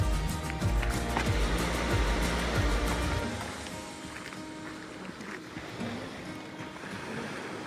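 Surf washing onto a tiny beach on Elba island in late October, a steady broadband rush of waves that is loudest at first and then settles into a softer, continuous wash.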